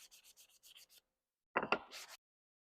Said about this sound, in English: I like to sand the edges.